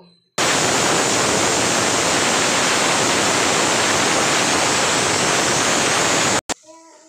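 A pressure cooker cooking egg tarka vents steam in a loud, continuous hissing rush for about six seconds before cutting off abruptly.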